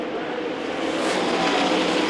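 NASCAR stock car roaring past on the Iowa oval in a 2007 race, a steady loud engine drone swelling as it draws nearer.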